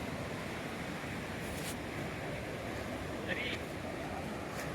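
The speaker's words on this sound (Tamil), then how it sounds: "இங்கே உள்ள தண்ணி பயங்கரமா ஆர்ப்பரிச்சு வருது." River water rushes past a riverside camp in Kasol, Himachal, as a constant broadband roar with steady intensity and a few faint brief sounds over it.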